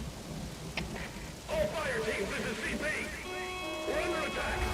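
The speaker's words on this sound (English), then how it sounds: "now you notice it's started to rain" Steady rainfall in the Metal Gear Solid V: The Phantom Pain video game at Mother Base, a continuous broadband hiss running throughout with game tones and electronic sounds layered over it.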